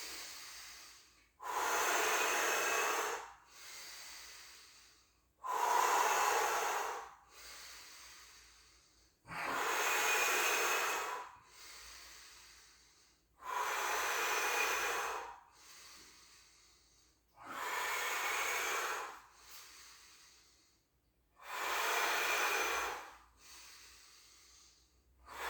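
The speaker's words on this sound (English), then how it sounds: "Breathe out." Slow, deliberate breaths out during a qi gong squatting exercise, six long airy exhalations of a few seconds each, evenly spaced with quiet pauses between, close and fairly soft.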